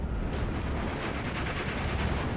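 Cannon fire in a tank battle video game, a dense continuous roar of booming blasts and rumbling bursts throughout, with no clear gaps between shots.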